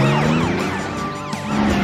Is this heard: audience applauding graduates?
no